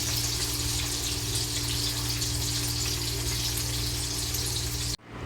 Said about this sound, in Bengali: মটরটা জল ঝরিয়ে রেখে নেব